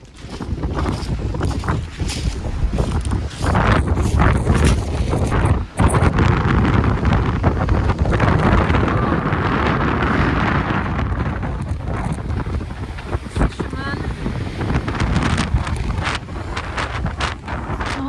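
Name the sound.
strong wind on a small pier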